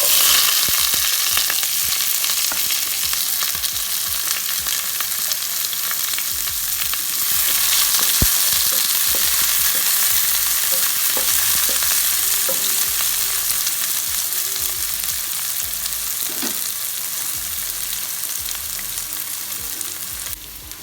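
Chopped medium onion and curry leaves hit hot oil after mustard seeds for kothu parotta, giving a loud continuous sizzle with scattered spatula scrapes and clacks, close up with no talking.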